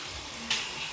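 Puri frying in hot oil, a soft brief sizzle with a sudden brighter burst midway.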